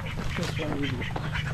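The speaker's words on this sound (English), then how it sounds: "Lots of ducks in this barangay." Ducks quack repeatedly in a rural coastal village near mangroves, moderately close, with a person speaking over them and steady ambient background noise.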